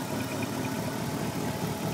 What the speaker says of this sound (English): This is the car idling.